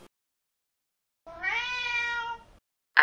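A single drawn-out cat meow, close and clear, rising then falling, set in near silence.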